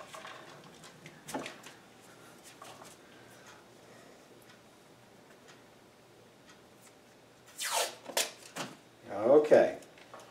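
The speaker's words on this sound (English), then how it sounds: "And for that, I'm going to use masking tape." Masking tape is torn and pressed onto plastic binding to hold a bend, giving a few quick ripping bursts near the end after a mostly quiet stretch with light handling taps.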